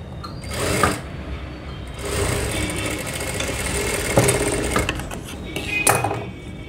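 A sewing machine stitches a high-neck blouse, its steady mechanical whirr running continuously at close range with small knocks and pauses as the fabric is guided.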